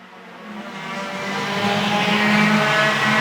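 Race cars roar around a dirt speedway oval during a heat race, a sustained engine drone building steadily in loudness as the pack draws nearer, with no talking over it.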